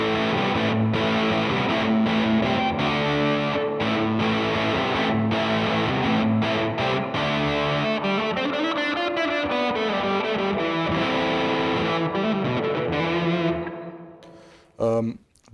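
An electric guitar runs through a spring reverb set to a short decay time, strumming gritty, distorted chords and a bending melodic line for a long stretch before stopping abruptly, followed by a brief final stab.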